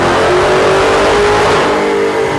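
The 707-horsepower engine of a 2015 Dodge Challenger SRT Hellcat revs hard on a dyno, a loud, close, sustained roar held at high revs for a few seconds without any voices.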